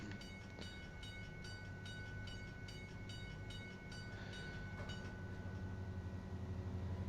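Train rolling past a level crossing in Euro Truck Simulator 2, a steady loud rumble with repeated rhythmic clicks of wagons crossing rail joints, continuous throughout and close by.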